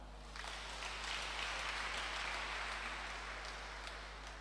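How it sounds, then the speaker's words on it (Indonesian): A church congregation during an Advent service claps together in a broad, even burst of applause that swells and then holds, heard from a distance with a low electrical hum underneath. "Tepuk tangan"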